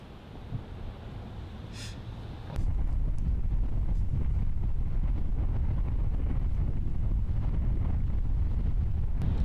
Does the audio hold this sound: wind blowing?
yes